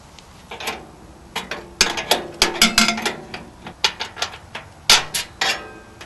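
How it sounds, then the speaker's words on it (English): A 9/16 nut is worked off a carriage bolt on a U-Select-It vending mechanism, a series of sharp metallic ratcheting clicks in uneven bursts, close and fairly loud, with no talk. "we're going to take the 9/16 carriage bolt out, or 9/16 nut that's attached to a carriage bolt, and remove that"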